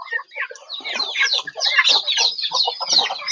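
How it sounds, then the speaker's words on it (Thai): Chickens cluck busily alongside ducks in a close, continuous flurry of overlapping calls, loud and steady with no talking. "เป็ดกับไก่"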